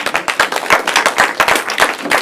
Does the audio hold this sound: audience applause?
yes